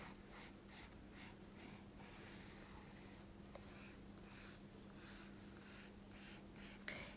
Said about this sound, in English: Remember to sketch lightly your shape first before going over with your pencil.